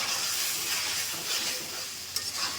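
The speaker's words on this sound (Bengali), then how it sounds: "এখন আমি আলুতে আরেকটু কষিয়ে নেব।" Potatoes sizzle and hiss as they are stirred and sautéed in a hot pan of oil, a steady bright frying sound close by with a small clink near the end.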